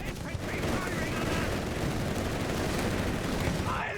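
Machine gun fire rattles through a Company of Heroes 3 battle as a dense, unbroken wall of gunfire and combat noise, loud and steady across the whole stretch.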